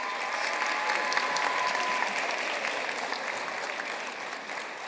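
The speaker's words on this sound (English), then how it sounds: "You can clap." A graduation ceremony audience claps for master's degree candidates, a moderately distant, dense wash of applause that gradually fades.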